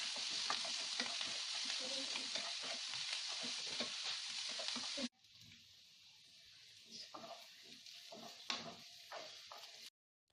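Two medium sliced onions frying with half a teaspoon of salt while being stirred, a loud steady sizzle that drops abruptly halfway and continues softer with scraping stir sounds.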